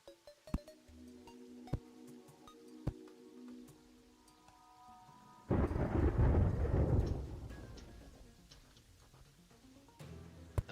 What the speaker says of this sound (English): Another storm, huh?